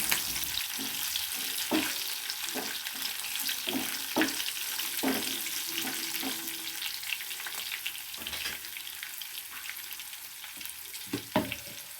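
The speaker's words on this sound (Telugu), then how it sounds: "వేసుకొని బ్రౌనిష్ వచ్చినంత వరకు వేయించుకోవాలి" Ground onions and tomato puree fry in a pan for a paneer masala curry, giving a steady close sizzle with scattered scrapes and clinks of stirring.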